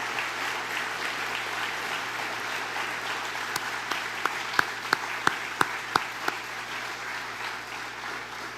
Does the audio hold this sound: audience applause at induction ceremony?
yes